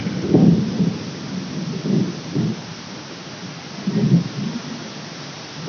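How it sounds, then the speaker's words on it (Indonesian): Several low rolling rumbles of thunder during a rainstorm, separated by the hiss of steady rain, heavy and fairly close, with no talk. "Ya ada petir ya."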